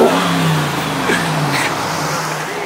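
A car engine, from a group of off-road enthusiasts, revs up close by in a short rising surge that then settles back to a steady idle, with no talking over it.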